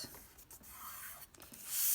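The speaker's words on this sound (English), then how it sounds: "grab your paper and fold the corner, one corner in, so it lines up" Paper being folded at one corner, a soft rubbing and crinkling swish close by, quiet and continuous over two seconds with a slight rise at the end; no voices.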